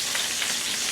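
Meatballs frying in a pan with a little oil, a steady close hissing sizzle with soft crackles, alone and even throughout the brief moment.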